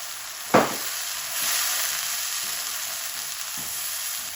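Chopped tomato and green chilies frying in oil in a pan while bitter gourd curry is being cooked, a steady close sizzle with an occasional stirring scrape, without any talking.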